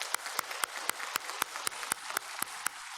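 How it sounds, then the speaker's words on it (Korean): A church congregation applauds its Sunday-school teachers with crisp, evenly spaced claps in a steady rhythm, about a dozen sharp strikes over a soft room-filling background. "격려의 박수 한번 하겠습니다"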